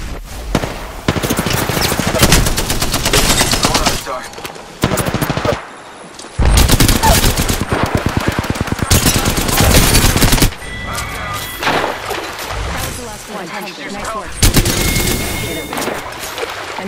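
Sustained bursts of automatic gunfire from an Apex Legends Season 5 firefight, loud and close, in rapid rattling strings broken by short pauses, with game voice lines cutting in.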